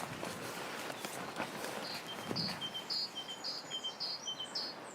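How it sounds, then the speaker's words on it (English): Small birds in a garden repeat bright, chirpy calls in a steady series, moderately distant and clear above faint rustling and footsteps outdoors. "What are the birds making that sort of repeated chirpy noise?"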